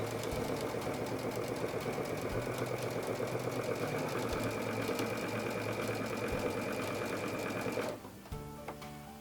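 A Baby Lock Unity sewing machine stitches quilt strips for a rail fence block in a steady, fast, continuous mechanical whir, close and even, then slows and stops near the end.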